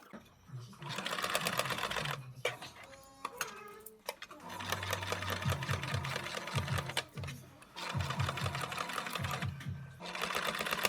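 A sewing machine stitches a repair on a camper van part, running in quick rhythmic bursts of rapid clatter with short pauses and handling noises between runs.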